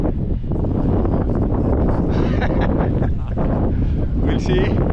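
Rough wind buffets an Eflite Extra 300 model plane flying in rainy, windy weather at Arnarvöllur, a loud, constant rushing roar close to the onboard mic, with talk mixed in.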